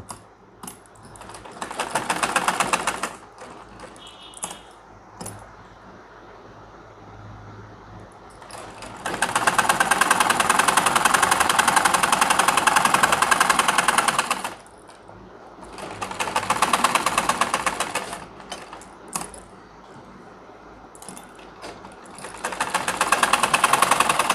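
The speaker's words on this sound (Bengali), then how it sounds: "এখন আমরা এখানে সেলাই করে দিব" An electric sewing machine stitches a trouser pajama, running in long loud whirring bursts of several seconds each separated by brief quiet pauses, close up with no talking.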